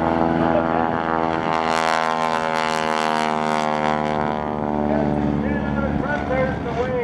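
A barnstormer propeller airplane roars loudly overhead during an air show, engine drone rising and holding steady before easing slightly, with an announcer talking over it.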